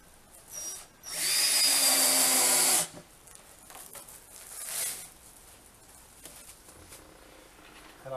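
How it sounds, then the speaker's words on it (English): A power drill drives screws through retainer wire into cladding, with one loud sustained whir of about two seconds, then a shorter, fainter burst, all close to the microphone. "put our screws down that row there"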